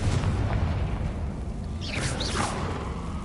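Confringo fire spell cast in Hogwarts Legacy, a whooshing blast with a muffled boom over steady game background rumble, moderately loud and brief.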